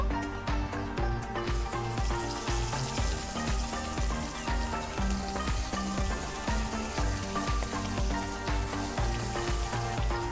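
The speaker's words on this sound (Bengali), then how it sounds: "বাকি মাছগুলো আমি এক এক করে ভেজে নেব" Fish frying in hot oil gives a loud, steady sizzle with dense crackling spatter that runs without pause the whole time, close to the pan.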